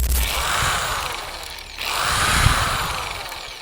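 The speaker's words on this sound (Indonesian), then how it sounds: "Ya, ini memang mesin poles ya, karena triggernya enak." Mollar MLR P450 electric polisher running loud and close, a steady whirring motor drone that dips briefly mid-run and then climbs back to full speed.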